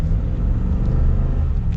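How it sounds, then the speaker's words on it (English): A 2022 Ram 1500 Warlock pickup truck's engine while driving, a loud, steady low rumble that holds evenly without pauses, heard alone with no talking. "You can hear more engine noise, that's for sure."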